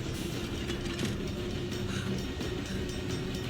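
A train from the action film Extraction 2 rumbles along in a steady, fairly faint mechanical roar with a rolling rattle of rail cars, continuous and without speech.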